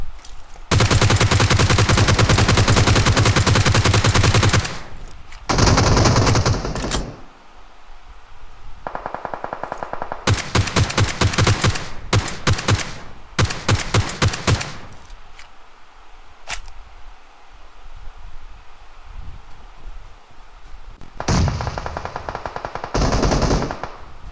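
Automatic weapons fire in the BGMI battle royale game comes as loud, rapid bursts. Long sustained strings alternate with shorter volleys and brief pauses, close and dominant, with no talking over it.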